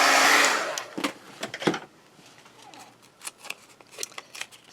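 A handheld heat dryer blows a loud steady rush over a small matchbox junk journal craft project for about half a second, then cuts off, leaving quiet scattered tapping and paper handling.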